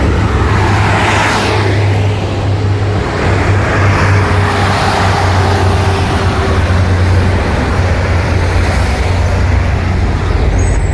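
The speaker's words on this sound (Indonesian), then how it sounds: "Semuanya bis-bis yang mengangkut jamaah nih ya." Steady, dense roar of road traffic near Muzdalifah as buses carrying Hajj pilgrims crawl along, with engines idling and rumbling close by and continuous low hum filling the air, no voices standing out.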